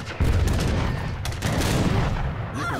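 Dense battle gunfire from the video game Age of Empires III, a loud continuous clatter of overlapping musket shots and booms with no pause, filling the whole stretch.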